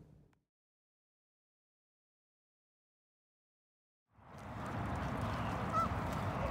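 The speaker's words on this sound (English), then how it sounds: "a lot of Canada geese, which there were none here yesterday" A flock of Canada geese at a lake in winter, a dense chorus of honking that starts abruptly after near silence and continues loudly.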